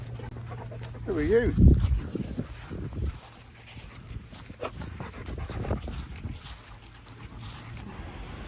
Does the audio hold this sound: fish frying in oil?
no